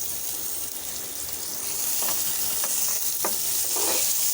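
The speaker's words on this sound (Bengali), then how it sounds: "মাছ ভাজা তেলের মধ্যে দিয়ে দিচ্ছি পেঁয়াজ।" Onions hitting leftover fish-frying oil, a close, steady sizzle that grows louder partway through, with occasional brief crackles and stirring sounds.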